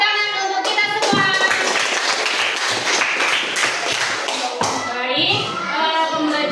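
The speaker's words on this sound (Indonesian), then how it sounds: "Beri tepuk tangan untuk kita semua." A classroom of students clapping hands together, brisk uneven claps close by, with children's voices and chatter mixed in throughout.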